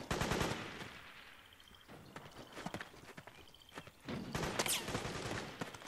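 Bursts of machine gun fire from the video game Metal Gear Solid 4, loud rattling volleys at the start and end, with a quieter stretch of scattered shots and clatter between them.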